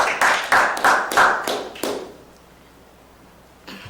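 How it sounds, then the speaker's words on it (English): Audience at a planning commission meeting gives a brief round of applause, about six loud sharp claps or bursts close by, fading out into room quiet, with a faint sound at the end. "Can we not have applause?"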